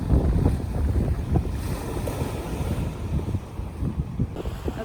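Strong gusting wind near the Golden Gate Bridge buffets the microphone, a continuous low roar that rises and falls without pause.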